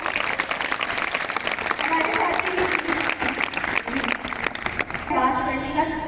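A yoga and healthy-living gathering gives a burst of applause, with dense clapping filling the first few seconds under a speaker's voice, then talk taking over near the end.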